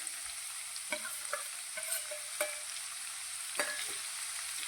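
Square-cut medium onion pieces frying in hot oil alongside garlic for an okra masala curry, a steady soft sizzle broken by several brief stirring scrapes, close and alone without voices.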